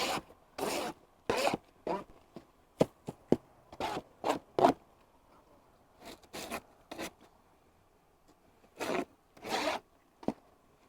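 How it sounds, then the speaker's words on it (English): Old, dry, brittle beeswax is scraped off a wooden beehive frame in a series of short, rasping strokes, close and crisp, separated by brief pauses. "There are some frames that are a lot easier to scrape, particularly if it's newer wax."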